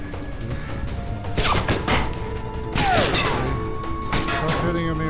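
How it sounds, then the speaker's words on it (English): Gunfire and impact bursts in the spy video game Alpha Protocol, several loud crashing volleys in a dense firefight, with someone talking over the action. "Stop shooting at me right now."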